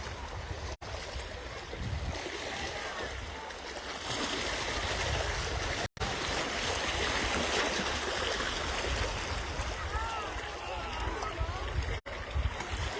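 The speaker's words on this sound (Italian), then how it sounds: "le acque azzurre e il suono del mare accompagna il nostro video" Sea waves at a beach in Brolo, Sicily, a steady broadband wash of surf and moving water filling the scene, continuous and moderately loud with brief dropouts.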